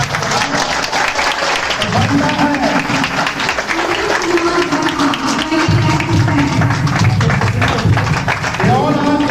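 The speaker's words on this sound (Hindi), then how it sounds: "अरे ताली बजती रहती है।" Students at a Purnea career coaching class for bank PO aspirants clap loudly and continuously in a room. The dense applause rolls on throughout, with voices talking over it.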